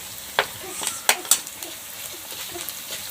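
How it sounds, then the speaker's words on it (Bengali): Cumin paste sizzles in hot oil with fried onion in a pan, a soft steady fry broken by a few sharp scrapes and clinks of a spoon stirring against the metal, close and fairly quiet. "জিরে বাটাটা ভালোভাবে নাড়াচাড়া করে কাঁচা গন্ধটা যাতে চলে যায় সেইভাবে আমি ভেজে নেব"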